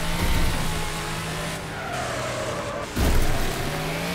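In Wreckfest on winter snow, a car drifts and skids with its engine droning steadily, tires hissing and scraping, and a louder skid or impact thump near the end.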